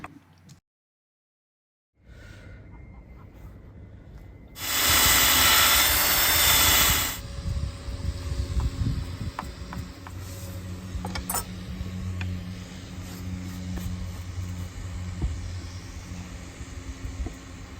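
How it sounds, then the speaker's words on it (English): A brief silence gives way to a loud, high-pitched power-screwdriver whir for a couple of seconds as it countersinks holes in a teak boat toe rail, followed by lower mechanical humming and scattered clicks. "Easy way to countersink the holes with the screwdriver."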